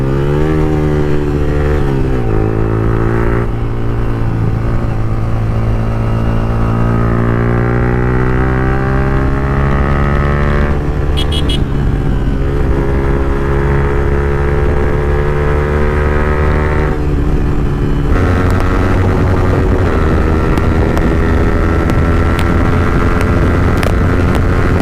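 A motorcycle ridden fast, loud and close throughout, its engine climbing in pitch through revs and gear changes with a steady buzzing drone and rushing wind.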